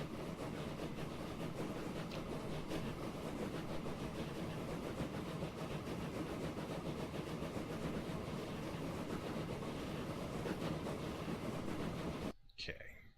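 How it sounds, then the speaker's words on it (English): Train in Transport Fever rolling steadily along the line, a continuous dense rumble with faint rhythmic clatter holding at even loudness, then cutting off abruptly near the end. "let the train go up the road a ways"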